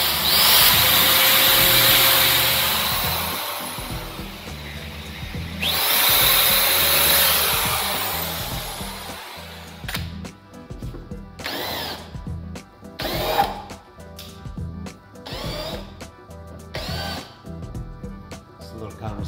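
Power drill enlarging holes in a metal window hatch panel for a Jeep Grand Cherokee WJ, with long loud whining runs first, then short bursts separated by pauses, with someone speaking in between.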